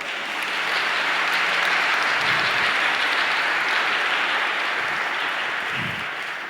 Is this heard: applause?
yes